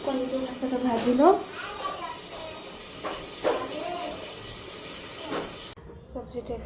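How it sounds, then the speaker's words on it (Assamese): An egg fries in a pan with a continuous soft hiss and sputter. A voice talks over it, and the sound drops away abruptly near the end. "কণীটো ফাৰ্ষ্টতে ভাজি লওঁ"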